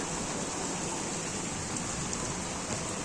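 Heavy thunderstorm downpour with hail and strong wind in Kunów, a dense, steady roaring hiss of rain pouring down nearby without a break, no voices.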